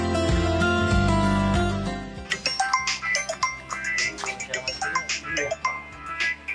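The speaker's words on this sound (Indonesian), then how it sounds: "saya ada telepon dulu" A phone ringtone plays a sustained tonal melody for an incoming call, then cuts off as a person starts talking.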